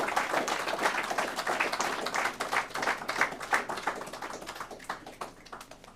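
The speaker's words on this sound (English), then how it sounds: "And if you could, a round of applause, please." A seated audience at a rededication ceremony gives a round of applause, dense, steady clapping from many hands that swells in the middle and gradually thins out toward the end.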